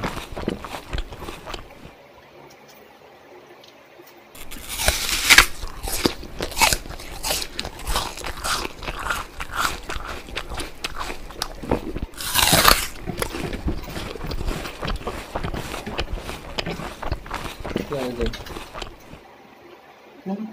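Crunchy breakfast food is bitten and chewed close to the mic, with loud crisp crunches and crackly chewing after a quiet start, a voice briefly heard in the background.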